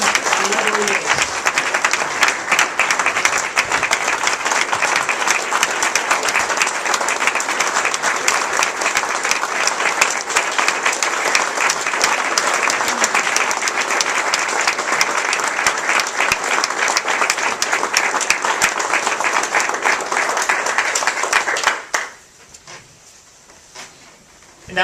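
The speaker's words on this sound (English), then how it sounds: "A big round of applause for Jim Goodman, whoever he is." An insurance industry awards gala audience gives a long, loud, steady round of applause that stops abruptly near the end, leaving only faint room noise.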